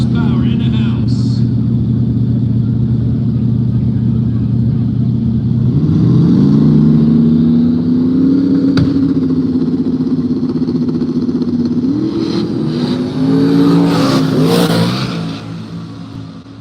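No-prep drag racing cars roar off the line at a live event, engines revving loud and close and rising in pitch as they accelerate down the strip, with an announcer talking throughout.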